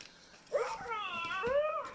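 A Fur Real Proto Max robotic toy puppy gives high, warbling whimpers and yips, close and fairly loud, in two short bursts with a brief gap between them.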